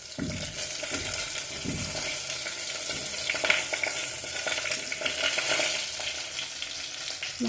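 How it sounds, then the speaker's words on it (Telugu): Brinjals frying in oil with cumin and mustard seeds, a steady loud sizzle and crackle with occasional stirring scrapes throughout, close up and with no talking. "ఆయిల్ వేసుకొని కొన్ని జీలకర్ర ఆవాలు, అలాగే ఇంతకుముందు పక్కన పెట్టుకున్న వంకాయలు అయితే ఆయిల్లోకి వేసేసుకున్నాం"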